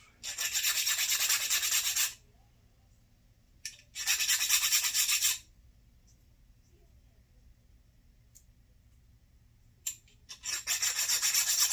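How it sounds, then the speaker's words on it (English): A hand file rasps over a lathe part to take off burrs, in three long bursts of scraping strokes separated by quiet gaps. It is close and fairly loud, with a faint low hum underneath. "Get some of those burrs off."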